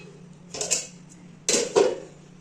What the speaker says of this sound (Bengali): খাবারের থালা রেডি করে দিচ্ছি এখানে দেখো।